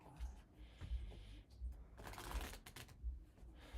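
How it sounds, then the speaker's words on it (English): Lenormand cards being shuffled by hand, soft riffling and slapping in several quick bursts, close but quiet. "Let me do one more shuffle."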